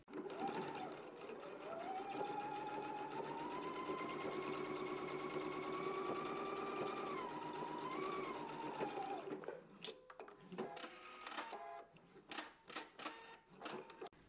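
A domestic sewing machine runs a long steady stitching burst along a 5/8 inch seam in fabric, close and continuous for about nine seconds, then stops and gives way to quieter handling clicks and rustles.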